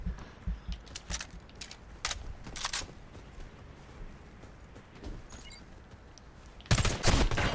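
Gunfire in the Warface video game's Breakout mode: a few sharp, loud shots spaced across the clip, with a final burst near the end, and no talk.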